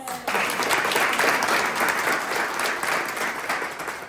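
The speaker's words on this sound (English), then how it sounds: "Give them a round of applause." Audience applauding the county clerk's office team at a preservation project unveiling: a dense, steady wash of clapping from a crowd, loud and sustained for the whole stretch, with no pause.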